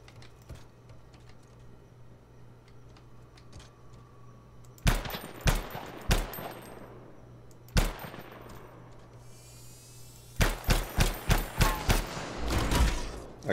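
Turret gunfire in the video game Anthem comes as loud bursts of shots over a low droning background, first a few separate bursts, then a rapid string of sharp cracks near the end.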